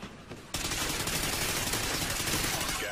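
Sustained automatic gunfire from a Call of Duty Ghosts multiplayer match rips out in a dense, loud burst after a short quieter lead-in, with no talk over it.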